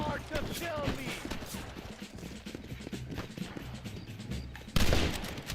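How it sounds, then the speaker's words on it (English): Gunshots in the video game Red Dead Redemption, a rapid string of cracking shots with galloping hooves and a loud final blast, heard over game voices. "I'm just gonna have to shoot him."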